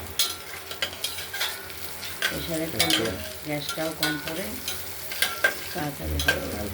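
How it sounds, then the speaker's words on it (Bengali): Mung dal is stir-fried in a pan before pressure cooking, giving a steady dry sizzle broken by repeated close scraping strokes and a tonal sound in the background. "একটু ভেজে ভাজা ভাজা করে নেবো"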